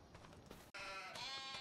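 Sheep bleating in the Farming Simulator 25 video game, a wavering harmonic bleat that starts abruptly after a short pause over faint ambient game noise.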